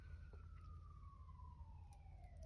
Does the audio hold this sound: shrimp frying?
no